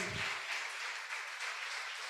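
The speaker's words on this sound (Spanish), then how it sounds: "Aplauda al Rey." A church congregation applauds the King during a worship service, a steady wash of many hands clapping with a brief low murmur at the start.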